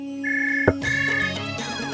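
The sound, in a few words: mobile phone ringing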